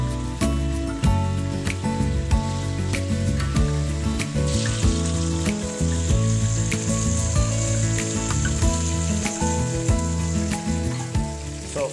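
Chicken pieces fry in hot oil for a murgh musallam, producing a steady, close sizzle with scattered pops and spatters throughout.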